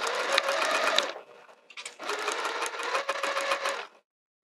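Sewing machine stitching the seam of a cork fabric wrist pouch, running in two steady bursts with a brief pause between them, close and clear with no talking.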